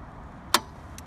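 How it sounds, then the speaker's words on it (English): A single sharp mechanical click from an EV charger holster unlocking, then a fainter second click a moment later, over low background hum. "I hear the click to unlock the holster."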